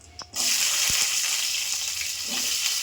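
Pieces of ivy gourd hit hot oil for a pickle, and a loud, close hiss suddenly bursts out. It settles into a steady, bubbling sizzle with a faint clunk from the pan.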